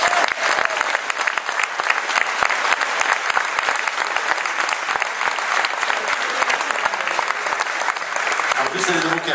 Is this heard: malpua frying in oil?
no